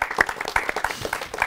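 Scattered hand clapping from a small group at a festival, uneven and lively, with a few sharper claps standing out close by.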